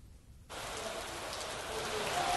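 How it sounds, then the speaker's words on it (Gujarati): Unseasonal heavy rain falling over Rajkot city, a steady hiss of rain that starts suddenly after a quiet moment and continues evenly, moderately loud and close. "રાજકોટ શહેરમાં પણ કમોસમી વરસાદ પડી રહ્યો છે"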